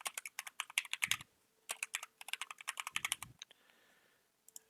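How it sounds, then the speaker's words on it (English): Rapid clicking of keys on a computer keyboard in short bursts with brief pauses, close and clear, ending with a few isolated taps. "and we can just start typing"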